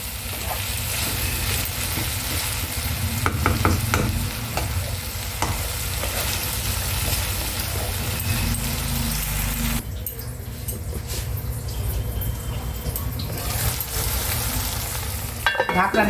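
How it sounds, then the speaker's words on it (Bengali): Hyacinth beans and shrimp sautéing in a pan, a constant loud sizzle with scraping stirs throughout that thins out briefly partway through. "ভালো করে আমি কষাবো এটাকে।"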